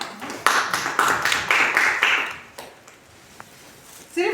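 One person claps hands at a child-protection workshop on child marriage and the POCSO Act. The claps come as a quick run of sharp, fairly close claps, then some faint taps, and a brief voice breaks in at the end.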